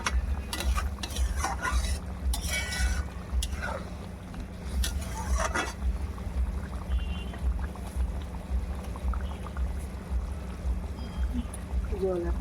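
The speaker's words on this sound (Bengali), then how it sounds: "এবার একটু নেড়ে দিচ্ছি" A spoon stirs besan and onion sabzi in a pan with soft scraping strokes and a faint sizzle, quiet and close, while someone talks now and then.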